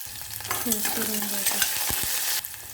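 Chopped onion dropped into hot oil with mustard seeds, cumin and curry leaves, bursting into loud close sizzling with stirring and spatters throughout, no voices.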